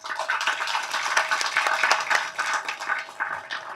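An audience claps at a Tamil film launch pooja event, a dense, lively burst of many hands that carries on steadily for several seconds with no voices over it.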